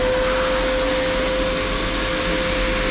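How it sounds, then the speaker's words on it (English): A small vacuum cleaner with an improved filter runs steadily and loudly, a constant close whine and rush of suction air with no talking. "this is a much better little vacuum"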